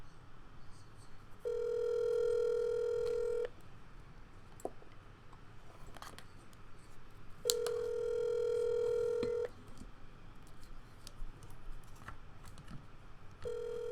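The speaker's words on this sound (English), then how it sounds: "They don't even answer the phone." An unanswered phone call rings out in a steady repeating pattern, three long ringback tones about two seconds each with pauses between, faint and heard through the line with light background noise.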